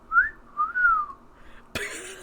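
A person whistles a short rising-and-falling tune, two clear sliding notes close to the listener, followed by a sudden burst of broadband noise near the end.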